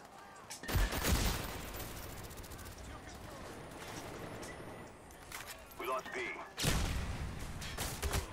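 Automatic weapon fire from a first-person shooter in loud bursts near the start and end, with heavy recoil thumps, under a busy game soundscape and a player talking.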